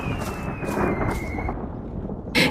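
Thunder rolls low and heavy over steady rain, a dramatic storm effect for a story about a fisherman's leaking hut, with a sharp crack bursting in at the very end.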